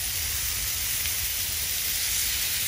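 Steak sizzling over an open campfire after being flipped, a steady, dense hiss that holds at an even level throughout with no pauses or voices.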